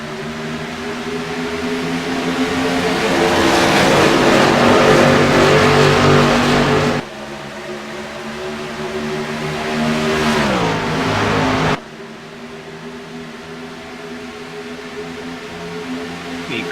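Race cars roar on a green flag restart at Atlanta, a loud sustained pack of engines accelerating and rising in pitch, with the tone dropping in two abrupt steps as the cars sweep past.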